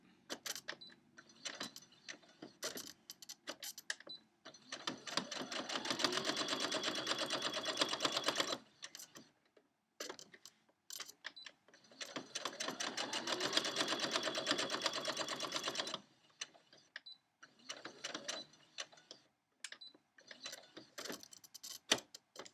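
A sewing machine stitches an eight-point star quilt block in two long, fast, steady runs. Short taps and small handling noises fill the quieter gaps between the runs, all close by with no talk.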